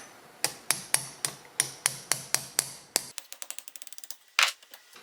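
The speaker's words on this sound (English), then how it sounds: "Hammer time." Metal hammer blows knock out a brake caliper pin on a Yamaha RZ350 front brake caliper, about ten evenly spaced strikes followed by a quicker, lighter run of taps, close and sharp with no talk.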